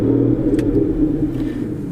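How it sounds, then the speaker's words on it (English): Aston Martin Vanquish 6-litre V12 starting up as heard from inside the car, a deep steady rumble with a brief rise at ignition, loud and close. "we are greeted by the wonderful 6-litre V12, which sounds absolutely incredible, even from inside the car"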